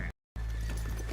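A horse whinnies loudly and close in Red Dead Redemption 2, a short neigh ringing out after a brief silence, with soft hoof clopping nearby.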